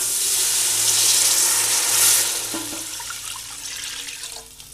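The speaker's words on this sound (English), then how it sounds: "Then we're going to add 5 cups of warm water to this." Warm water pours steadily and loudly into a soup pot, a broad rushing splash that swells, then thins and tapers off toward the end, with no talking.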